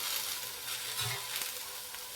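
Food frying in a pan, a steady close hiss and sizzle with a faint stir partway through, no voices.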